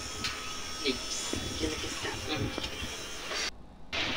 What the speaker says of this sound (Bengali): আমাদের মোটরটা চালু হয়ে গেছে। এখন আমরা এটা দিয়ে জল স্টার্ট করে দেখাবো।